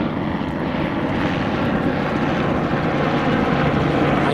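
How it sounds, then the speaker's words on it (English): A helicopter passes over a Los Angeles beach near Playa del Rey and Dockweiler, its steady, loud rotor and engine roar filling the air with no voices. "Got a chopper heading over there."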